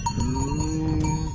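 A cow lows in a green meadow in Alto Adige, a steady, fairly loud bovine call with a clear pitched tone held through the moment, with no talking over it.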